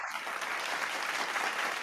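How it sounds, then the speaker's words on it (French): Dense studio audience applause for a team on a game show, a steady, even wash of many hands clapping at once, filling the whole short stretch without letup. "Les applaudissements."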